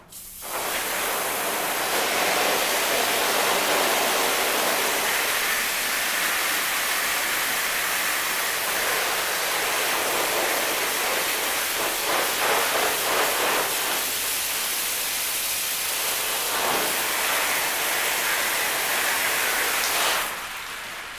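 Water sprayed hard onto a Shoei Neotec modular motorcycle helmet during a durability test, a loud, steady broadband hiss that runs for about twenty seconds and then cuts off, with no talking.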